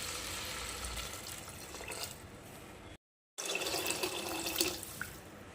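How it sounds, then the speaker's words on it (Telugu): Water poured into a pot of chicken corn soup makes a steady splashing rush that runs for about three seconds, stops briefly, then resumes just as loud. "వాటర్ వేసుకుందామండి."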